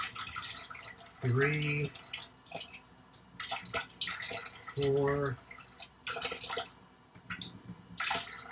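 Tablespoons of water are poured one at a time into ground flaxseed for vegan snack bars, making short splashy pours in an uneven rhythm while a person counts aloud between them.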